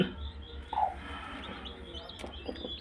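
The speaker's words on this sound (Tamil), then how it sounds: "இங்கே பாருங்கள் குஞ்சு இருக்குது" Newly hatched country chicken chicks give a faint, high chirp early on, with a few softer peeps over a quiet indoor background.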